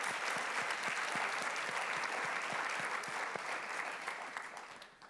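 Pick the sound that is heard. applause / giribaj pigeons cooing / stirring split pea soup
applause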